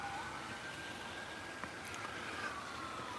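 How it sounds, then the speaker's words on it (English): Distant emergency siren drifting across a foggy suburban neighbourhood, a faint wailing tone sliding slowly in pitch over a soft outdoor hiss, far off and alone. "you can hear we aren't exactly immune to having sirens and all that kind of hoopla in the suburbs here"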